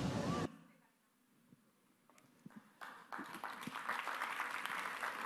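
Audience applause at a talk: after a brief loud burst and a quiet gap, clapping builds into a broad steady wash of many hands.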